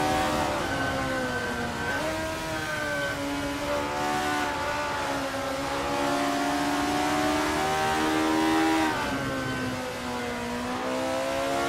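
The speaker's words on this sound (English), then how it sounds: "These engines aren't just humming for fun." Honda S800 race cars in the Assetto Corsa sim, racing a cup event at the Alpental track, drone with high-revving engines whose pitch rises and dips through gear changes. The sound is steady and sustained, with no talking.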